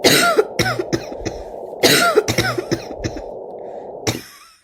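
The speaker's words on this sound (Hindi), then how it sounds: "गोमती खांस रही थी।" A woman coughs repeatedly in harsh, close bursts, clustered in two fits with a throaty gasp between.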